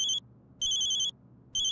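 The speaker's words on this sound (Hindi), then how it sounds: "फोन आया।" A telephone ringing in a police station in a TV drama, with loud electronic ring bursts repeating in a steady on-off rhythm.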